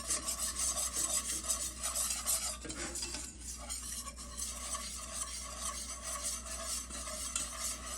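A roux is kept moving in a pan over low to medium heat, giving continuous scraping and rubbing strokes with a faint sizzle, steady and close, with nobody talking.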